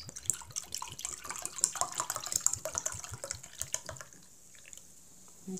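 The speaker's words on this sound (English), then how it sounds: "Pour some out." Fawlty Towers ginger beer pours from a freshly opened bottle into a glass, a close, splashy liquid stream with fizzy crackle that runs for about four seconds, then tapers to quieter bubbling.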